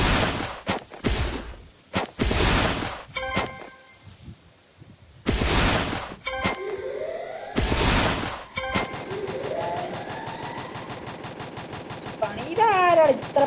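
Gunfire in the mobile game Free Fire: sharp separate shots and short bursts, then longer rapid automatic fire, mixed with metallic dings, clangs and game effects, with a voice heard briefly.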